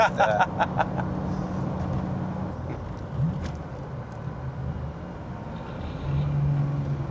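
A Jaguar XJ-S V12 on the move, heard from inside the cabin: a steady, low engine drone at moderate level, with a few brief clicks and faint voice-like sounds near the start.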